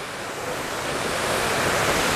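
Tad Fane waterfall in southern Laos pours down from above with a loud, continuous, dense roar of rushing water, steady and close throughout.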